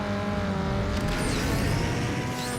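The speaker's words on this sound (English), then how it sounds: "over-revved that one a little bit" A car engine is over-revved in the video game Need for Speed Underground 2, a loud, steady roar at high revs that holds throughout without a break.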